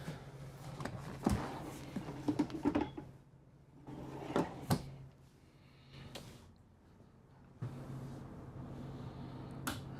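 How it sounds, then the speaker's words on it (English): Drawers on both sides of the permanently mounted table in a 2025 Renegade XL 45 DBM RV booth dinette slide open and shut, making several sharp wooden clacks and knocks in bursts, close by, over a steady low hum. "So you're gonna have some drawers that pull out here"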